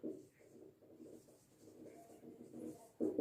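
Pen writing a maths solution for a Class 10 NCERT exercise, soft continuous scratching strokes close by, with short pauses between words.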